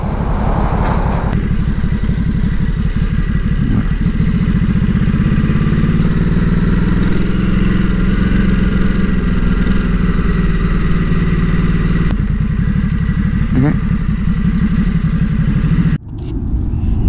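Ducati Supersport S motorcycle engine running steadily while riding, a loud continuous low rumble with slight rises in pitch, briefly dipping near the end.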